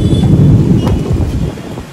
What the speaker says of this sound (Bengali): হিউজ হিউজ বৃষ্টি হচ্ছে